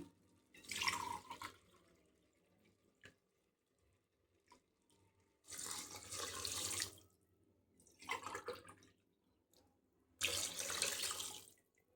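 Water pours into a pot of rice in three separate bursts, each a rushing splash lasting a second or two, with quiet pauses between.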